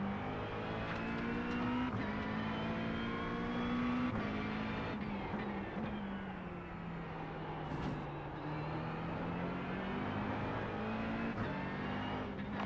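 Race cars from the LMP2 class in the iRacing game drone close behind with steady engine tones that rise and fall in pitch across the whole span, loud and continuous, with no talk over them.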